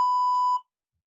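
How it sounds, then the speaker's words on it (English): A single steady electronic timer beep, about half a second long, marks the count during an off-ice skating exercise session and then cuts to silence. "Wait for those beeps."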